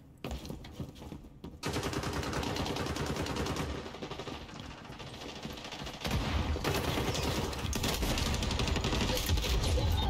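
Rapid gunfire in the shooter game XDefiant, dense bursts of automatic shots and fusillades that keep going and grow louder and heavier in the second half.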